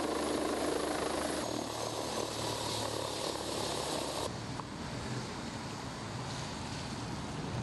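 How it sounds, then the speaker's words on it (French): A Dragon 2B rescue helicopter's steady whirring rotor and engine drone fill the air over the sea, loud and continuous, shifting slightly in tone as it draws near. "avant l'arrivée de l'hélicoptère Dragon 2B"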